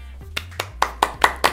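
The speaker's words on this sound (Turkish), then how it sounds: "Bir alkış alalım." Several sharp hand claps from an audience during a Turkish eating-challenge show, about six quick separate claps in a loose rhythm, fairly close, over a low steady hum.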